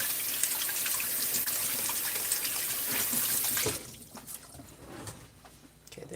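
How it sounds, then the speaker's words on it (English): Water runs steadily from a kitchen tap as hands are washed beneath it, the broadband rush loud and continuous before cutting off, followed by a few faint drips and trickles. "Wash my hands."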